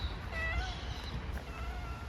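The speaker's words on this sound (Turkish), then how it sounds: "Çok tatlı ama kedi." A cat meowing outdoors in faint, short high cries over a steady low rumble of street background, fairly distant and quiet.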